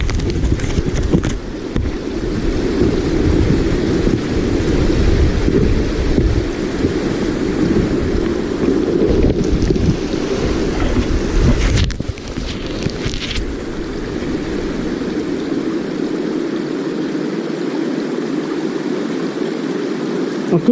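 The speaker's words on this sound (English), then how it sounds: "I'm literally climbing up a waterfall." Steady, close rushing of falling water at a waterfall near Vatnajökull, Iceland, heard while climbing it, a constant roar with wind buffeting that thins out for the final stretch.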